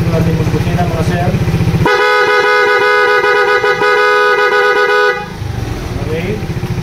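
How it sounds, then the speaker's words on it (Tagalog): Someone talks briefly before a loud, continuous Suzuki Smash motorcycle horn sounds for around three seconds, tested with the high beam on; the talking resumes once the honk stops. "At sa high beam, check po natin yung busina,"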